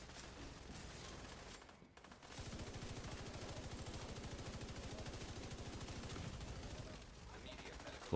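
Sustained video game gunfire, a dense rapid rattle of automatic shots running almost continuously after a brief pause, loud and close, with voices talking over it.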